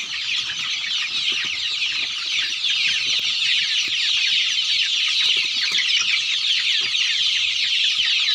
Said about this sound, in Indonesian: ini anakan ayam yang kemarin itu masih kecil